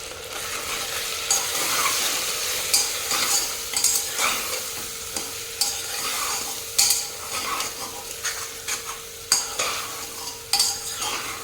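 Mutton being stir-fried with chilli powder, coriander, cumin and pepper powder in a pot over high flame: a continuous sizzle under repeated scraping and clanking strokes of a utensil against the metal, nearby and moderately loud, with no talk.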